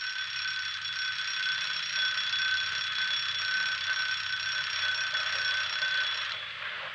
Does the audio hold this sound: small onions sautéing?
no